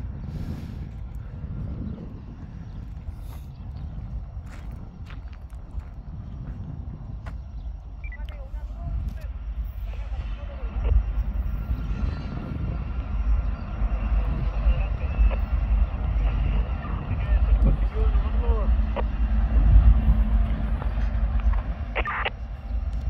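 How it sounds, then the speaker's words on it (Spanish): Ferromex FXE 4517 diesel locomotive engines rumble as the train heads north toward Juárez, a deep steady drone that grows louder as it approaches, with wind buffeting the microphone. "Me callo para que escuchen estos bonitos motores."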